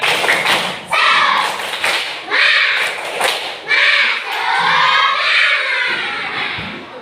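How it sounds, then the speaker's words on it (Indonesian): Schoolchildren in a classroom perform the 'tepuk semangat' chant, beating out loud rhythmic claps and thumps while shouting the chant together in bursts. "coba tepuk semangat dulu"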